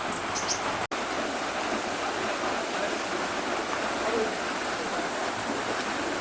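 Steady rushing of a mountain stream fills the whole clip, a continuous broadband wash with one brief sharp click near the start.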